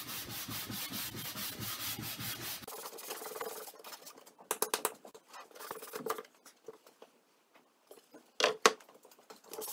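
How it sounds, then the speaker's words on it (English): The face of a wooden board is sanded with the grain under light pressure, first as steady close rubbing strokes, then as quieter, intermittent scuffs and short rasps. "I sanded the face of the board as well"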